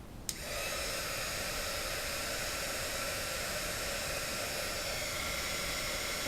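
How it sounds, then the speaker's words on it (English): A heat gun for melting clear embossing powder on a card switches on with a click and blows a steady, loud hair-dryer-like whoosh for several seconds, with no speech. "heat gun."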